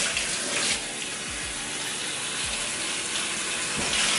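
A kitchen or bathroom tap runs steadily as a houseplant is rinsed and flushed, a loud, close gushing wash of water with faint gurgles and shifts as the stream is moved, and no one talks.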